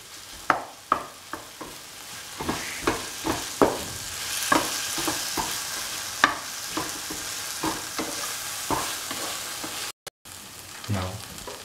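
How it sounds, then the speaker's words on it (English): Spicy okra masala rice is sauteed in a pan with a steady sizzle, broken by a dozen or so sharp scrapes and stirs of a spoon against the pan. "Keep on sauteing until all the ingredients are completely incorporated into the dish"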